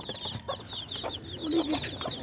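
Hens with chicks cluck in soft, repeated calls close by, mixed with faint high peeping from the chicks, continuous throughout with no talking.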